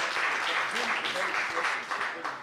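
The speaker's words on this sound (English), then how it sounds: "Former champion Jonathan Gresham introduced first here to this crowd in Jersey City." A wrestling crowd in Jersey City claps steadily, with the sustained applause filling the space while an announcer's voice carries over it.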